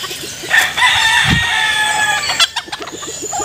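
A large Japanese Shamo rooster kept as a breeding cock on a free-range farm crows once loudly and close by, a long drawn-out call, followed by a few short clucks.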